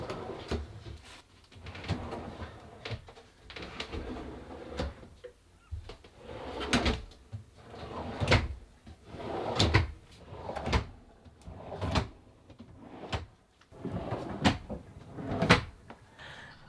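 Wooden drawers in a camper van build slide open and shut again and again, a steady run of close, knocking thuds and soft rattles with no one speaking.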